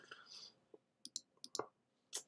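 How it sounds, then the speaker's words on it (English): Keys click on an Apple computer keyboard, a few quiet, sharp taps in an irregular rhythm, close and otherwise nearly silent. "Man, fucking Apple keyboards are so delicate."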